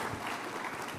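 Brief burst of audience applause at a presidential cabinet event with Javier Milei, a dense, even wash of clapping, fairly soft and steady.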